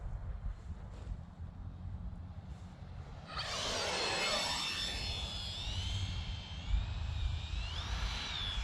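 A Freewing F-14 electric ducted-fan RC jet climbs away in a go-around, its whine rising sharply then sweeping in pitch as it banks past, loud and close over steady wind noise.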